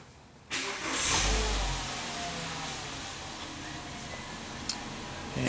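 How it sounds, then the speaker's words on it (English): A 2005.5 Volkswagen Jetta engine cranks and catches, then settles into a steady idle. The start comes as a loud burst of crank and revving, followed by an even running hum. "Now let me start the engine."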